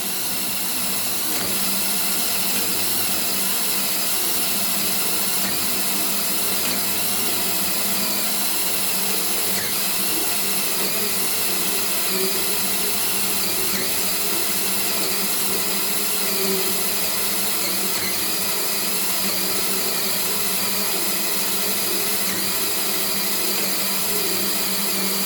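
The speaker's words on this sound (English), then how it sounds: "I think my drill is dying" A failing power drill runs continuously at a steady high whine for the whole stretch, close and loud, with no talking.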